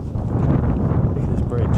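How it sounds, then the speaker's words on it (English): Wind buffets an unshielded microphone on a windy height, a steady low rumbling roar filling the whole moment without letup. "it's really windy up here"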